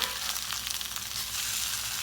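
Organic black bean burgers fry in a pan, giving a steady, dense sizzle with crackling that holds evenly throughout and sounds close and continuous.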